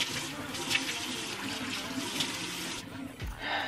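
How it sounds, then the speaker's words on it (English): Tap water runs and splashes as someone rinses their face with normal-temperature water at a sink, a steady close hiss of flowing water that breaks off near the end with a small thump before resuming. "now I'm going to rinse off my face with just normal temperature water"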